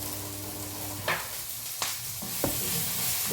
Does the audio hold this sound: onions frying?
yes